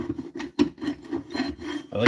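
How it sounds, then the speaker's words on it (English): Steady rasping friction of sandpaper against wood spinning on a lathe, a continuous rubbing hum with rhythmic surges, close by and without any talking. "we're just gonna start sanding"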